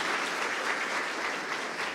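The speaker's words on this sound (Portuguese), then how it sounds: "eu queria mais uma salva de palmas aí para o Marco, agradecer" An audience at an engineering forum applauds a speaker, a brief, dense and steady burst of clapping heard alone.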